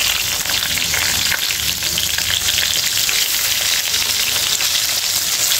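Steamed drumstick stems dropped into hot mustard oil with black cumin seeds sizzle loudly and steadily up close, a dense unbroken frying hiss with no talking.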